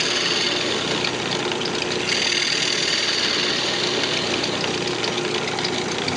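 A wood lathe turns an off-center box while a round nose scraper cuts. The result is a loud, continuous, rough broadband roar with a low machine drone, steady throughout with no talk.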